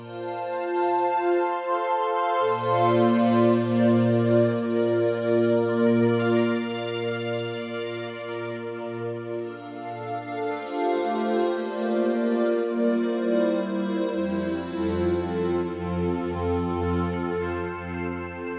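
A sustained electronic tone from a Korg Opsix SE FM synthesizer, buzzy and metallic, with overtones shifting and bending over time as an operator ratio is changed, droning steadily with no voices.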